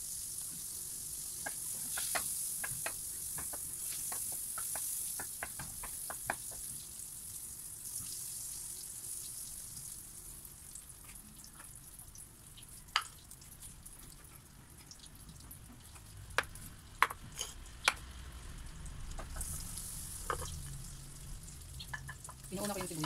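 Onions frying in a pan for spaghetti sauce, a faint steady sizzle with scattered sharp clicks and utensil taps, running quietly under a woman's occasional speech.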